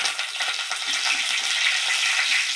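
Cinnamon, cumin and curry leaves frying in hot oil, a bright steady crackling sizzle, loud and close throughout, with no talking over it.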